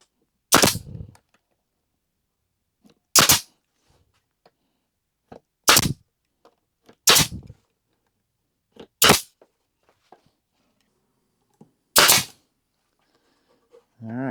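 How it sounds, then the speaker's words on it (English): Six sharp, loud pneumatic staple shots fired into half-inch plywood with 1¼-inch staples, each a crisp isolated crack spaced a second or two apart, with small handling clicks and a faint rustle in between. "my stapler was already out, so I'm just going to staple it"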